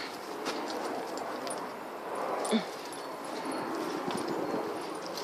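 A small wiener dog whimpers and yips briefly outdoors in a garden, with one sharper cry midway over a steady bed of background noise.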